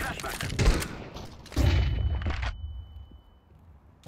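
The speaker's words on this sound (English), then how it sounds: "Throw in a flashbang!" Gunfire and grenade blasts burst in a competitive shooter game round, two loud clusters of sharp shots and booms with a high ringing tone after, while players shout faintly underneath.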